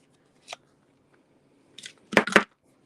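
Scissors snipping paper up close in a quiet room: one short cut, a pause, then a quick burst of three or four crisp snips near the end.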